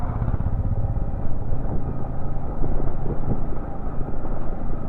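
On the mountain road toward Pangi and Killar, another motorcycle rider passes, a continuous engine drone mixed with heavy wind buffeting and swelling slightly midway.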